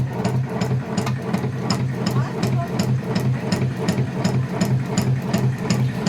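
A batasa sugar candy making machine runs steadily, a low mechanical drone with a regular rhythmic clatter and sharp repeating knocks, close and continuous.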